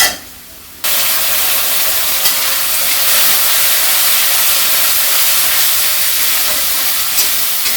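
Spices and onion sizzling in hot mustard oil, a loud, steady frying hiss that starts abruptly after a brief quiet moment and holds evenly to the end.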